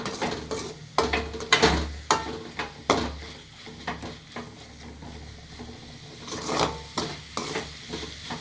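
Vegetables for mint rice sizzle in a hot pan while a spoon scrapes and stirs them in irregular bursts, with louder clanks against the metal between steady frying hiss.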